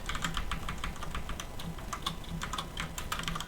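Rapid, light clicking of computer keyboard keys as values are typed in, close and continuous for a few seconds.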